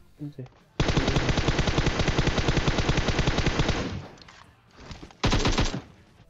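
Sustained bursts of rapid automatic gunfire in the video game PUBG Mobile, a long continuous volley followed by a short pause and another burst, loud and close.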